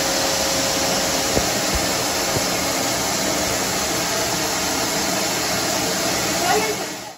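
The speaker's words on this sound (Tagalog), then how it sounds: "Yan yung ating bagong vacuum." A new vacuum cleaner runs in a house, a steady close whooshing motor roar that holds constant for several seconds before cutting off at the end.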